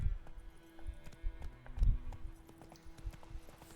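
Rhythmic hoofbeats from Roach, the horse in the video game The Witcher 3, clop steadily at a quick pace, close and moderately loud, with no talking over them.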